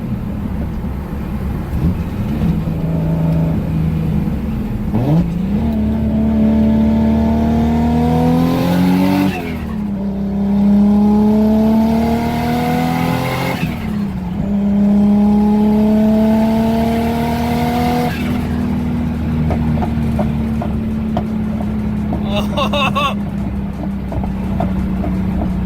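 A Nissan S14 with a stock-block RB26 and a 6765 single turbo makes repeated hard pulls, the engine note climbing steeply through each gear with brief shift dips, loud and close, with some tire squeal.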